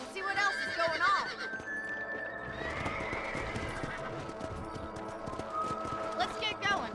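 Horses in Red Dead Redemption neigh and whinny with clip-clopping hooves, one long whinny rising clearly before a steady trotting rhythm continues under ambient game sound.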